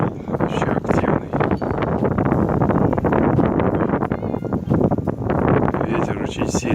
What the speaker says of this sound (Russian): Ветер очень сильный.